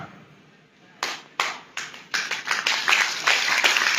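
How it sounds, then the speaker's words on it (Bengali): An audience at a talk bursts into applause, starting with a few scattered claps and swelling quickly into loud, dense clapping from many hands. "জোরে হাততালি মারুন"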